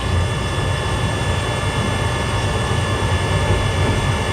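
A passenger train runs near Delhi with a loud, steady rumble and rolling noise from inside the carriage, broad and unbroken throughout with no voices.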